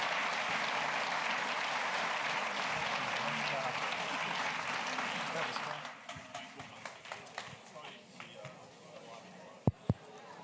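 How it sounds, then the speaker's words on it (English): An audience at a faculty panel on government gives a sustained, dense round of applause that thins into scattered claps after about six seconds, with a voice speaking over it. "Wonderful round of applause for our panelists"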